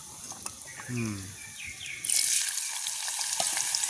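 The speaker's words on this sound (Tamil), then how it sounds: "இந்த பூண்டு குழம்புல தான் வெட்டி இருக்குது, வேகமாக பொரிஞ்சிருக்கு" Garlic frying for a kuzhambu curry in a village kitchen, a hiss that swells into a loud, steady sizzle partway through, with a few brief chirping tones before it.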